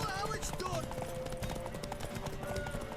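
A horse gallops in The Witcher 3 video game with rapid, steady clip-clop hoofbeats and a faint whinny, running under a speaking voice and game sound.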